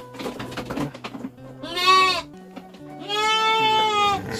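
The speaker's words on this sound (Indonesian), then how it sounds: "Duh, masya Allah ya, ada kambing" A goat bleats loudly and close by at a traditional Sundanese village house in Sumedang, West Java, giving two long wavering cries after some distant murmuring talk.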